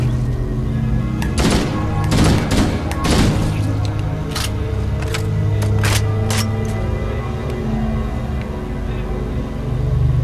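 Gunfire in Halo: Combat Evolved: a burst of heavy rapid shots early on, then scattered single booming reports over a constant low rumble of engine-like background, loud and close.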